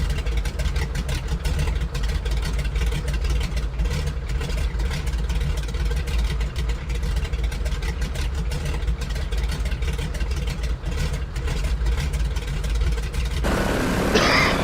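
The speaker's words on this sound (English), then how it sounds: "Just gonna wait for the engines to die." A 1939 Grumman Goose's twin radial engines drone steadily at idle in Microsoft Flight Simulator, a loud, continuous rumble with no talk that changes character near the very end.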